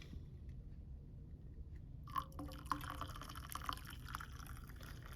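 After a quiet start, hot water is poured into a cup with trickling, splashing sounds and a few faint clinks, close by.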